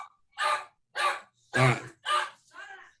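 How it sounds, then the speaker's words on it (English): Dogs bark in a run of five sharp, evenly spaced barks, fairly close and distinct, with quiet gaps between each one. "Your dogs are going crazy."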